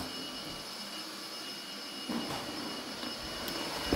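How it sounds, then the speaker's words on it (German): A household vacuum cleaner runs in another room, a steady broadband roar that stays constant throughout at a moderate distance, with a few faint knocks near the end. "mein Papa staubsaugt gerade noch"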